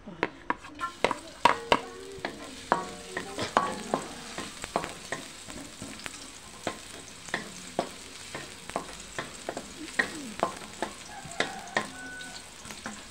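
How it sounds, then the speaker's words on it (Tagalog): Ingredients for batchoy are sautéed in a pan: a steady sizzle with regular sharp clicks and scrapes of a utensil against the pan, close and continuous. "Eto na, guys, igigisa ko muna."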